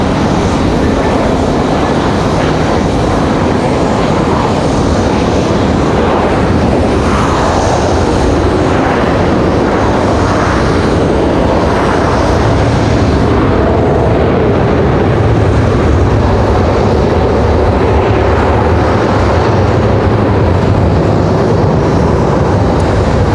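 A Delta airliner arriving from LaGuardia at Raleigh-Durham airport, a loud, steady broadband engine roar that stays strong and close throughout, without voices.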